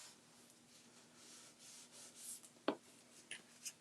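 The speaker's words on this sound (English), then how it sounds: "burnish down, rub it in so that everything is well adhered" Gold foil is burnished down by hand, giving soft, faint rubbing strokes in slow repeated passes, with one sharper tap and a few brief scrapes near the end, under a low steady hum.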